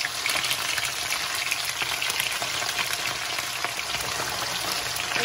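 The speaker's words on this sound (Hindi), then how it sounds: "ताकि इसकी अच्छी तरह से ये फ्राई हो जाए, डीप फ्राई हो।" Chicken pieces deep frying in hot oil as part of a homemade pulao kabab, a steady close sizzle and crackle with fine popping throughout and no talking.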